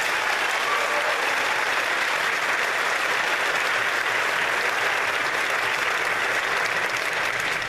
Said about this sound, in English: Please give him a round of applause for that.